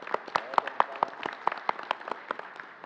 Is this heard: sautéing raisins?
no